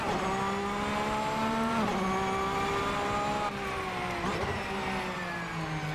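A Porsche sports car engine revs loud and close, its pitch climbing and dropping sharply with gear changes and driveline lash, continuous with no talk.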